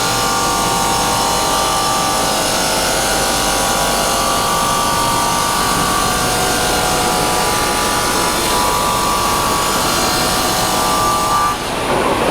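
A granite block in an Andhra Pradesh granite factory is cut to size by a large cutting machine. The machine gives a loud, steady grinding roar with a sustained whine, continuous and close for the whole stretch, easing off briefly near the end.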